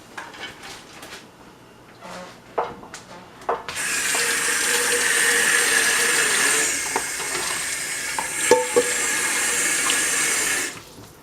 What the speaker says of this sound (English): We're going to strain our hamburger.